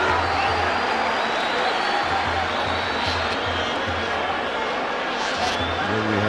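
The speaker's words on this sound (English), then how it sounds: "That crowd for a chilly Wednesday night here at the Athlone Stadium" A football crowd at Athlone Stadium on a chilly night, mostly Kaizer Chiefs fans, keeps up a constant dense roar with scattered cheers and applause while a commentator speaks over it.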